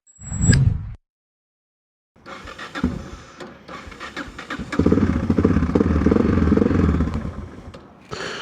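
A 2001 Yamaha XT600E motorcycle, electric start, on a little choke: a brief starter burst, a pause, then the single-cylinder engine cranks, catches and settles into a loud, close, throbbing idle.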